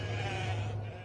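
A sheep on a farm gives one steady, fairly close bleat lasting about a second, with a sustained wavering tone and no talk over it.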